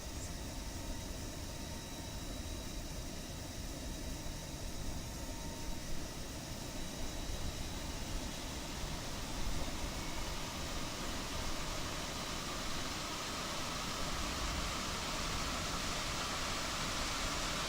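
Airbus A320neo engine spooling up outside the aircraft in Microsoft Flight Simulator 2020, a steady broadband roar with a faint high whine, constant and unbroken.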